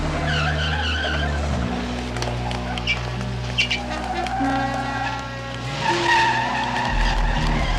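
A very fast car skids across the whole stretch, a long tire squeal and engine roar over a busy, dense film soundtrack with music, rising near the end.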